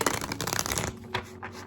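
A quick riffle of tarot cards being shuffled, a dense flurry of crisp flutters followed by a few soft taps as the deck settles, close up.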